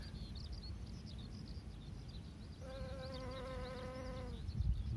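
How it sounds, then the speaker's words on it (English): Honeybees buzz around clover blossoms on a hot day, a steady close hum of insect wings with a brief louder buzz as one passes near, over dense outdoor background noise. "so many bees are getting the clover honey here, or making the clover honey"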